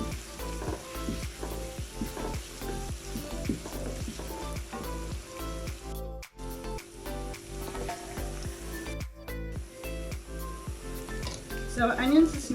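Lamb coated in braising spice sears in a pan with a steady, close sizzle and intermittent stirring scrapes, while a person talks over the cooking throughout.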